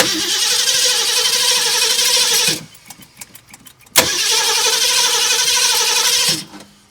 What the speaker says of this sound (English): Let's see if she'll fire up.